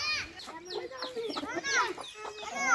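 A white hen and chick cluck and chirp repeatedly in quick, uneven bursts nearby in a village, mixed with a voice talking.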